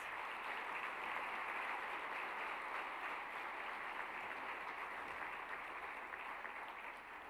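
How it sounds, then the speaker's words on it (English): Applause from a banquet audience at a university honors banquet, a steady, dense wash of clapping that holds evenly for about seven seconds and fades slightly at the end, with no voices over it. "Let's have a round of applause."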